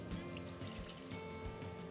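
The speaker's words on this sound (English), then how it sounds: "Add in the milk" Milk poured from close range into a heat-proof dish set over a barely simmering pot of water, a soft, brief liquid trickle and splash lasting a couple of seconds.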